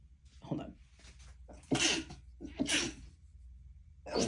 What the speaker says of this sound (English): I don't know why I'm sneezing.